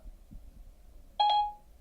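Phone dialing tones from Siri on an iPhone running iOS 8.3 placing a call: a short, loud burst of steady electronic beeps that starts abruptly after a quiet stretch with faint background noise.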